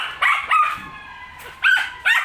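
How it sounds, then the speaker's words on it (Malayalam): Dogs bark along a road at night during New Year celebrations: four sharp, fairly close barks in an uneven rhythm, with yelping, whimpering tones and a low background murmur between them. "റോഡിൽ കൂടെ എല്ലാം അലച്ചുകൊണ്ട് പോകുന്ന കേട്ടോ."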